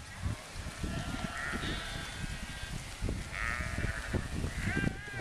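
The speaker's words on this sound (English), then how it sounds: "The sheep are coming." Several sheep bleat in a German pasture, short wavering calls rising at intervals over rustling and footsteps nearby, fairly close and moderately loud.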